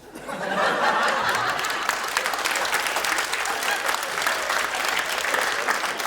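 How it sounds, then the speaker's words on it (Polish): Loud audience applause fills a cabaret show, dense clapping rising quickly and holding steady, with a little chuckling and laughter mixed in from the crowd. "Ale widzi pan jak klaszczą?"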